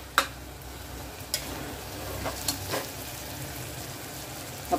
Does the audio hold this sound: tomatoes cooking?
yes